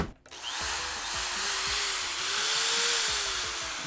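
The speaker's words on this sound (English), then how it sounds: "hammer drill." A corded hammer drill running off an Inergy Kodiak solar generator whirs steadily after a sharp start, close and loud, with a rising and falling motor whine and repeated knocking pulses.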